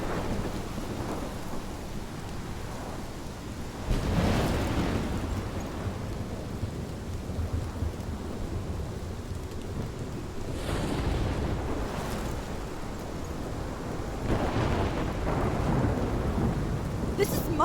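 A thunderstorm in the video game Life is Strange, with heavy rain and wind roaring continuously and deep rolling thunder swelling in several loud surges.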